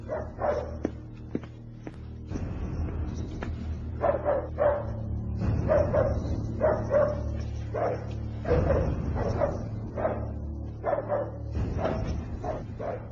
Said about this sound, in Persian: سگ را به سوی او بفرست